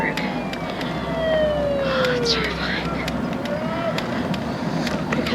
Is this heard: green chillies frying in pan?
no